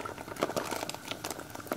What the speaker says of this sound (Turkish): Evet, kaynamaya başlamış olan tenceremizi suyumuzun içine